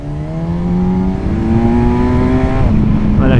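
Kawasaki Versys 1100 SE motorcycle engine revs hard and close, its pitch climbing steadily toward 8000 rpm, then dipping briefly before climbing again, loud and continuous with no talk.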